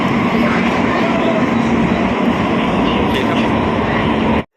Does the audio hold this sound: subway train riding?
yes